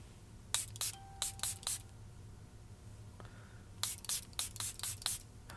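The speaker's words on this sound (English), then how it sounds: "So I'm going to take the LA Colors setting spray." Quick, close bursts of makeup setting spray hiss out in two clusters, a few short pumps, a pause, then another rapid series of sprays.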